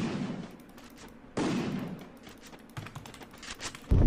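Rapid bursts of gunfire in an online shooter match, several clustered volleys with sharp onsets and a loud burst near the end, no voices over them.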